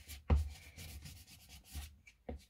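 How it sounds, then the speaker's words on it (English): A scraper dragged across a handmade DIY Christmas plaque, a few short rough scraping strokes, close and fairly quiet, separated by brief pauses. "Then you're going to take your scraper."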